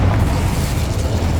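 The Incendio fire spell in Hogwarts Legacy bursts out as a loud, deep whooshing blast of flame with a rumbling low roar sustained for over a second.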